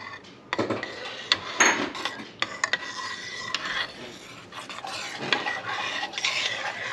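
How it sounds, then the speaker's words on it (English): A utensil stirs melted, pre-rendered beef tallow in a pot, using the wet rendering method. The close scraping and clinking strokes against the pot repeat in an irregular rhythm, with a faint sizzle beneath them. "everything is melted, so I'm just going to give it a stir"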